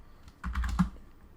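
A short burst of typing on a computer keyboard, several quick close key clicks clustered together with no voices.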